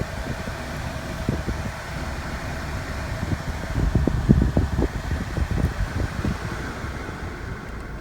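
A steady blowing fan hum from a 2014 Chevy Cruze's air conditioning, with low rumbling thumps rising midway and easing off again.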